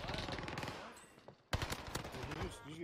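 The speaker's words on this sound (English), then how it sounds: "Did you get shot at, Sean?" Rapid gunfire aimed at a player in a video game, dense rattling bursts with a brief break midway before firing resumes, loud and close, with some voices mixed in.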